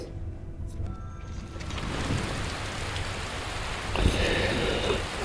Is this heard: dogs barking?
no